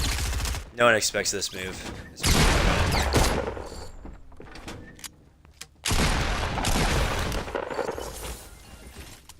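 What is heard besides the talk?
gunfire in a video game, pump shotgun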